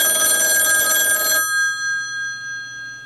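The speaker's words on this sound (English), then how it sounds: "the sounds of a rotary telephone with mechanical gong ringers from my home" Mechanical gong ringers on a rotary telephone clang in a fast, loud metallic trill, then stop abruptly, leaving the bells' bright ringing tones to fade slowly into silence.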